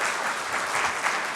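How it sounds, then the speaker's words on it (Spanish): Church congregation applauding during a Spanish-language service, a dense steady burst of clapping from many hands with no talk over it. "Denle una ofrenda de palmas al Señor."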